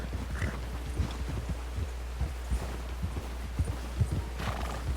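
Horse hooves plod along at a walk in Red Dead Redemption 2, a steady soft clip-clop rhythm close by over low ambient background noise.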